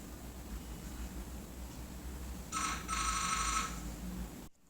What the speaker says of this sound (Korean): 구글 어시스턴트를 이용해서 전화를 거는 모습을 보여드리도록 하겠습니다.